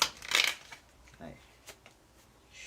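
Tarot cards being shuffled up close: a quick riffling burst, then softer scattered flicks and taps as the deck is handled.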